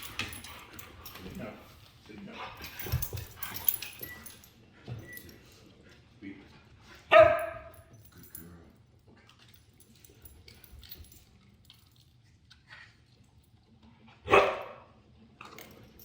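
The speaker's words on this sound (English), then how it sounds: "The dogs are all sitting out here with us." Several family dogs waiting for treats outdoors give two loud, separate bursts of barking or yelping a few seconds apart, with quiet talk and small movements in between.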